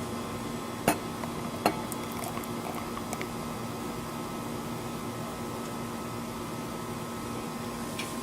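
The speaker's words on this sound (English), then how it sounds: "The instructions on the bottle said not to disturb the yeast at the bottom, to pour slowly but somewhat aggressively" Bottle-conditioned beer with yeast sediment poured slowly but firmly, giving a steady close fizzing hiss throughout, with two sharp clicks near the start.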